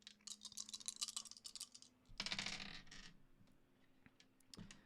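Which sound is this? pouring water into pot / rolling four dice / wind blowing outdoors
rolling four dice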